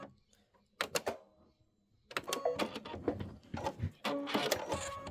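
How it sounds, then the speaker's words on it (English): An embroidery machine runs a locking stitch in quick mechanical bursts of rapid needle chatter, pausing once and then resuming more densely, close and fairly loud. "it's doing a locking stitch, so don't worry about it"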